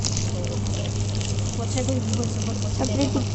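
Cumin seeds sizzle in hot oil inside a clay pot while desi chicken curry is being started. The crackle is loud, close and continuous, with no pauses.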